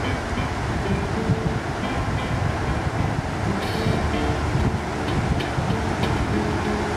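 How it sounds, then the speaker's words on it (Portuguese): Strong, steady wind roars across the open beach at Praia do Leão on Fernando de Noronha, a dense continuous rush with low buffeting and a hint of surf beneath, loud and unbroken with no talking. "Aqui o vento é tão forte"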